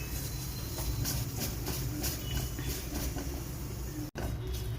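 Curry leaves sizzle and crackle as they are tempered in hot oil in a home kitchen while making sambar masala for masala dosa, a steady close hissing fry with a brief dropout near the end.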